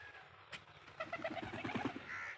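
Several pigeons coo in soft, repeated throaty phrases outdoors while they feed on scattered wheat in a yard, a close, steady murmur of overlapping calls with one brief sharp noise near the start.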